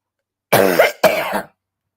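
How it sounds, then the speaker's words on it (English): Two quick, harsh coughs in close succession, loud and near, with a short pause between them and silence around. "Now I'm starting to cough."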